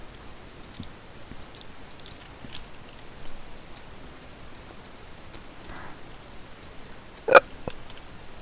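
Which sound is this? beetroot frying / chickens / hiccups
hiccups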